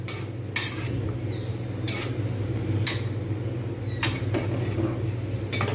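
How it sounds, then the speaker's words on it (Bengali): A utensil scrapes and knocks against a pan at intervals while fried chicken is stirred into a thickening chilli chicken sauce, with a steady low simmer underneath. The stirring is close and unhurried. "কন্টিনিউ নাড়তে থাকছি, এটা কিন্তু থিকনেস বেড়ে যায়।"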